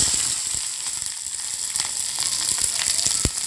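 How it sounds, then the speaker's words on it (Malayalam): Fenugreek and mustard seeds splutter in hot oil for a Kerala curry, a steady close sizzle with scattered sharp pops and one louder crackle near the end, no voices. "ഉലുവയൊന്ന് പൊട്ടി തുടങ്ങുമ്പോഴത്തേക്കും നമുക്ക് അതിലേക്ക് കടുക് ഇട്ട് കൊടുക്കാം"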